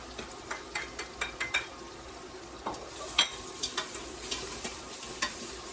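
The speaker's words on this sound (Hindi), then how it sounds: "और अभी हमने जो भी सब्जियाँ कट करके रखी थी वही वाली डाल रही हूँ।" Chopped vegetables going into a pan for curry and kitchari, with a series of close scraping stirs and clatter of a spoon over a steady faint sizzle, the knocks coming in quick bursts.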